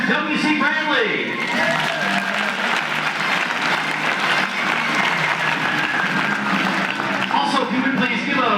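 Sustained audience applause for the premier sponsor at a United Way campaign kickoff, dense and steady throughout with some voices mixed in.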